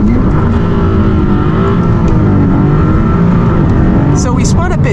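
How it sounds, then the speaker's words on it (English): A loud, sustained 2022 Maserati MC20 engine roar close by at launch, rumbling steadily as it builds boost, with a brief voice near the end. "It's revving up, building boost."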